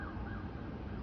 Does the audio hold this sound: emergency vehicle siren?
yes